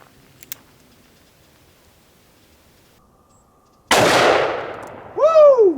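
A single loud Ruger Super Blackhawk .44 Magnum revolver shot cracks out after near silence, its blast decaying over about a second and a half, followed by a bright ringing whine.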